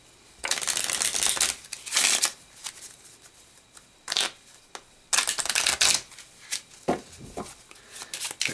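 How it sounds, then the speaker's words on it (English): A deck of playing cards is shuffled by hand in several quick riffling bursts separated by short pauses, crisp and close with no one speaking. "So give them a good shuffle."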